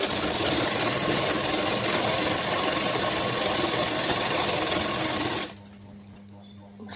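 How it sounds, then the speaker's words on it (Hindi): A sewing machine runs a steady, dense zigzag stitch on a petticoat, loud and close for several seconds before stopping abruptly and leaving quiet room tone. "हम जिग जैग सिलाई लगाने जा रहे हैं कुछ इस तरीके से।"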